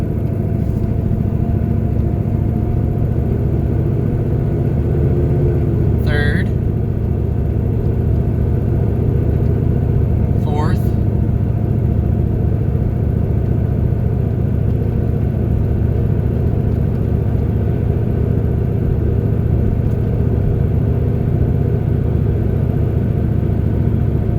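A 1996 truck with a 6.5L diesel engine idles and creeps along with a steady low rumble. The drone holds even throughout, broken by two short high squeaks, with no voices.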